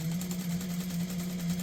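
A sewing machine stitches quilt block pieces in a steady close mechanical whir throughout the short stretch, with no talking over it.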